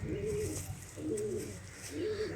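Sialkoti pigeons coo in a slow, repeating rhythm, three soft rolling calls close by over a low background hum.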